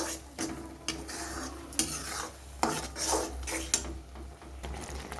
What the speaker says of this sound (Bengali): এবার চিনিটা দিয়ে কিছুক্ষণ নেড়ে চেড়ে নেব